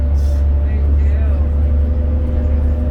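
A 2001 New Flyer D40LF city bus with a Cummins engine on Calgary's route 14 at night gives a loud, steady low drone from inside the cabin while passengers chat over it.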